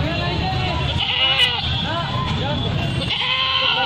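Goats bleat repeatedly at a crowded Tukalgabad livestock market, loud and close, with several overlapping cries over a busy background murmur.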